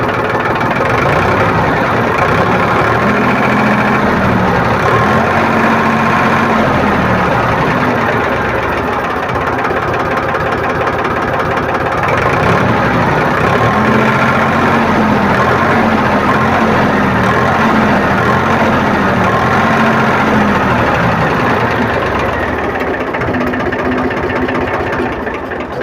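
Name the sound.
Powertrac tractor diesel engine idling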